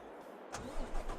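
A truck engine in Farming Simulator 22 cranks with a short whir and catches, settling into a low rumbling idle that fills the rest of the brief moment.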